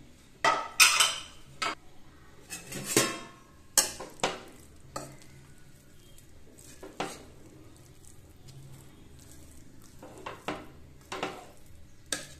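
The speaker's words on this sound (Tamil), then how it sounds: "இப்போ லைட்டாக அப்படி கிண்டி விட்டுக்கலாம்." Cooked coriander rice is gently stirred in a pressure-cooker pot, giving scattered scrapes and metal clinks of a spoon against the pot, close by, with quiet gaps between strokes.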